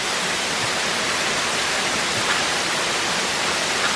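Heavy, steady roar of Diamante Falls, a tall waterfall in Costa Rica, heard close from the caves behind the falling water, a dense unbroken rush filling the whole clip.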